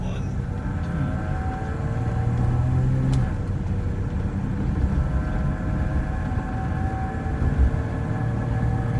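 A BMW E30 running new spark plugs, wires and distributor accelerates during a 0 to 60 run, its engine droning with shifting harmonics over road rumble, loud and continuous from inside the car.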